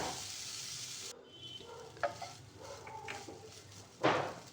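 A salted potato mixture fries in a pan as a spatula works through it, a hissing sizzle that drops back after a second, then scattered scrapes and clacks and a loud scraping stroke near the end.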